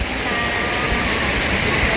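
Balite Falls waterfall pours with a steady, dense rushing roar of falling water that holds constant and close throughout, with no breaks or distinct splashes.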